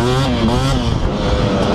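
A KTM 250SX dirt bike engine revs hard on a muddy track, loud and close, its pitch climbing and dropping in sharp bursts with a raspy two-stroke buzz.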